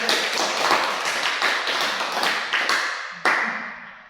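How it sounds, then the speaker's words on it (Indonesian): A classroom group claps after presenting a three-dimensional animal cell model, a short burst of close, brisk applause that tapers off, with a final sharp tap near the end. "Tepuk tangan dulu"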